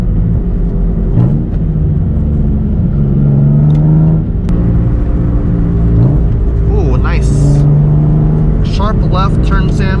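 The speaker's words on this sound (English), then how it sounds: "Stop sign downshift test." A Nissan 350Z engine downshifting as it slows for a stop sign, loud close cabin drone with rising and falling rev blips, mixed with someone talking.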